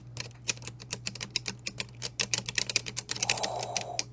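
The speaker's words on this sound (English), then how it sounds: "It's that old typewriter click." Old mechanical typewriter with faux wood-grain finish: keys clack in quick, uneven bursts, close and crisp, with a faint low hum underneath and a brief rustle near the end.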